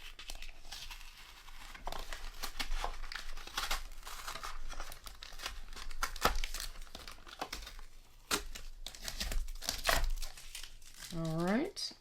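Tape peeled up from paper after being burnished flat for an alcohol-marker background, a long crinkly tearing rustle running throughout at close range beneath a speaking voice.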